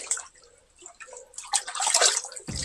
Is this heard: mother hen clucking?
no